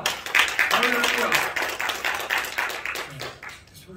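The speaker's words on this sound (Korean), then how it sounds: "다 함께 박수로 영광 돌립니다" Applause from an audience at a church assembly, a dense wash of clapping lasting throughout and fading toward the end, with voices mixed in.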